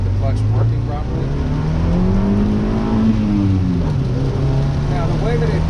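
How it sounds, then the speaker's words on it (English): A Honda Civic del Sol engine revs up and down as the clutch is tested, its tone rising to a peak and then easing off, loud and close throughout. "I'll give you a little idea of the clutch working properly"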